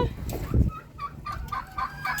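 Chickens cluck nearby in short, choppy bursts, a few excited squawks mixed with softer clucking.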